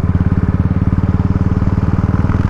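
A motorcycle being ridden with friends on a hill road, its engine throbbing in a fast, even pulse close by and loud, running on reserve fuel.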